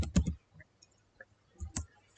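Keys clatter on a computer keyboard as a formula is entered in Microsoft Access, with two short bursts of quick, close clicks separated by a quiet pause and a few faint taps.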